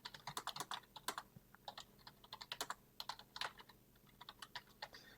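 Quick, uneven clatter of keys on a computer keyboard as a master password gets entered, close and crisp, bursts of rapid taps with short pauses, no talking.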